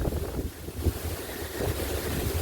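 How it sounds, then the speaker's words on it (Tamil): Strong wind gusts across an exposed hilltop at the Vyaghrapureeswarar Shiva temple near Pulipakkam, Chengalpattu, roaring steadily into the microphone with low rumbling buffets and no talk. "இங்கே ஒரு லிங்கம் காற்று பயங்கரமாக அடிக்குது"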